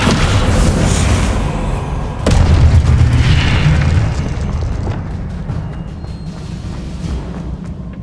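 Loud booming spell blasts from the Hogwarts Legacy video game, a dense rumbling burst swelling near the middle and then settling into a sustained low roar, with no talk.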